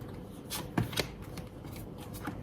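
Tarot cards are shuffled by hand close up, a soft papery riffling with a few sharper slaps and taps over a faint, steady background hiss.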